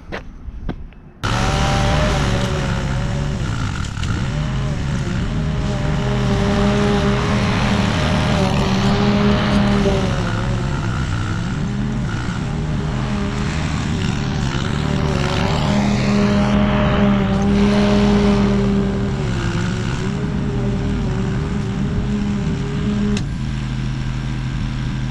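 Petrol lawn mower cutting grass in a backyard, a steady loud engine drone with a constant harmonic hum running the whole time, close to the mic after a brief quiet start.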